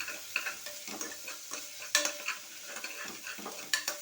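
A spoon stirs peanuts and spice powder around a pan in a steady run of soft scrapes and rattles over a low sizzle, with a few sharper knocks against the metal.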